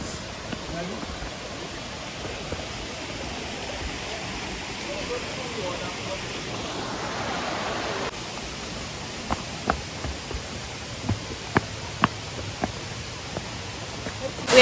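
Steady broadband rush of a waterfall in Karura Forest, Nairobi, heard up close as a constant hiss, with a few sharp knocks and small sounds over it toward the end.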